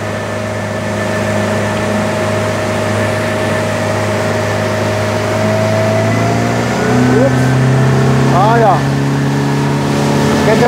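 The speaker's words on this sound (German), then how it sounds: "Also dann fahren wir los, dann schauen wir mal. Wir haben jetzt das Boot mit Führerschein, also mit 40 PS." A 40 hp rental motorboat engine on the Main river at Schweinfurt drones steadily and loudly throughout, with a constant low hum and a brief rise in pitch near the end; a voice talks over it.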